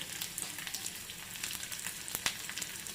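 Sliced shallots and dried red chillies frying in hot oil with mustard seeds, giving a steady, close sizzle with faint crackles and a brief stirring clatter.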